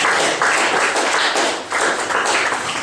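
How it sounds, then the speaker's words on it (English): An audience at a tech user group talk breaks into loud, dense applause, many hands clapping close together in a continuous crackling wash that dips briefly and then swells again. "Now you may clap."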